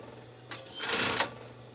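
An industrial sewing machine makes a short stitching burst, a quick whir starting briefly then running loud for about half a second before stopping, close by over a quiet hum.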